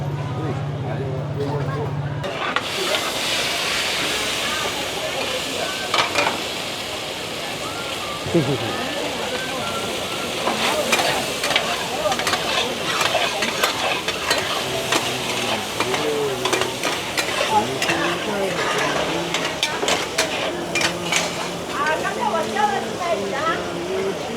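Bột chiên, fried flour cake, sizzles and crackles steadily on a hot pan at a street stall in Malaysia, with stirring and scraping throughout and a voice talking over it.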